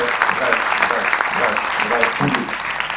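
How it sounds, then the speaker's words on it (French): An audience at a TEDx talk on entrepreneurship in Tunisia claps for volunteers in sustained, dense applause that fills the hall at steady volume. "On peut les applaudir s'il vous plaît"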